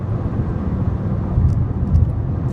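A Skoda Octavia A5 accelerates hard toward 100 km/h in third gear, a steady low engine rumble that swells slightly near the end, heard from inside the car with no talking.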